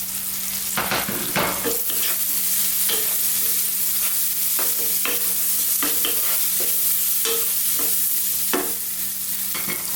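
Chopped onions fry in a pan with turmeric powder for a vegan bean chili stew, giving a continuous close sizzle broken by frequent scraping stirs and clattering spoon knocks throughout.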